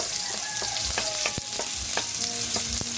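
Garlic stir-frying in a pan for Filipino garlic fried rice, a loud close sizzle with repeated sharp scrapes and knocks of the spatula against the pan, steady throughout and no voice over it.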